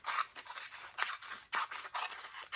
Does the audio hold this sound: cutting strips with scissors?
yes